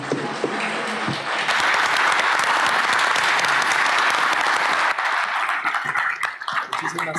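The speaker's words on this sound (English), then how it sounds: "Please, a round of applause once again." An audience applauds panelists at the close of a conference session, a dense, loud wash of clapping that swells after a moment and continues steadily to the end.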